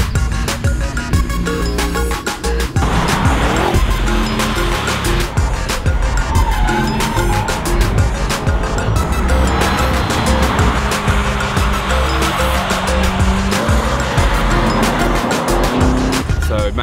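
HSV GEN-F cars driven hard around the Broadford track on a cold day, with loud engines revving, passing close and squealing tyres through corners, continuous and close throughout.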